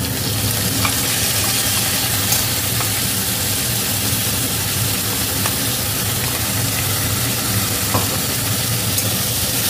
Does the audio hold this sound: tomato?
yes